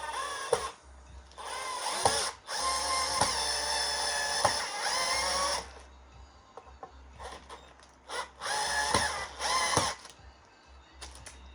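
A power drill whirs in several bursts of a few seconds each, loud and close, with short pauses and clicks between runs, during assembly of a Fender Duo Sonic guitar.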